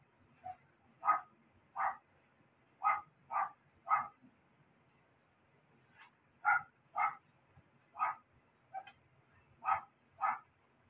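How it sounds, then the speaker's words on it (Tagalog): A dog barks in a home setting: about fifteen sharp single barks come in irregular bursts over roughly ten seconds. The barking is moderately loud and slightly distant, with no talk over it. "Yun, isa sa mga aso ko yung tumatahol."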